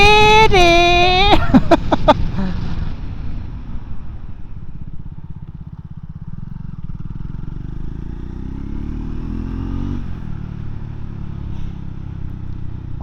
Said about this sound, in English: When the revs are up, it sounds like you've got a little child on your mirror going nee, nee, nee.